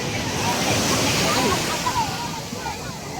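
Sea waves at a beach in Alexandria, Egypt, a steady broadband wash of surf with wind noise on the microphone, continuous and fairly loud, with faint voices in the background.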